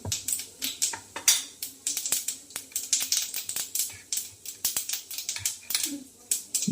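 Mustard and cumin seeds with white sesame spluttering in hot oil for a tempering, a dense run of sharp crackling pops close by, alone.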